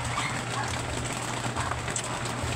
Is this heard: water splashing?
no